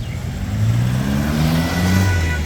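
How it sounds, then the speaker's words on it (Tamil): A white Jeep Rubicon's engine revs up close and loud, climbing steadily in pitch over a couple of seconds with a rough mid-range growl. "ஒயிட் கலர் ஜீப் ரூபிகான் இங்கே பாருங்க"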